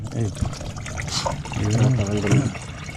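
Oil pours into a boat engine with a soft liquid gurgle, partly masked by someone talking close by.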